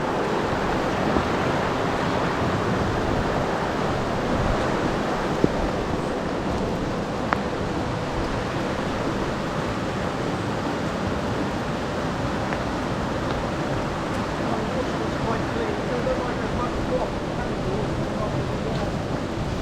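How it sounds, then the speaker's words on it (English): A river on Dartmoor rushes in a steady, full broadband wash for the whole stretch, close and unbroken, with rain-soaked wild camping surroundings and no talk over it. "The river."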